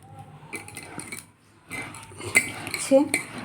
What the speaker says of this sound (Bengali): তো সেটাকে আমি ভালো মতন মিক্স করে নেব একদম সবগুলোকে